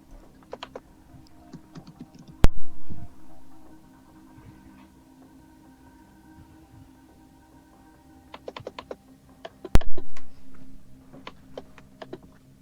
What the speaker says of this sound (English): I can hear you typing away.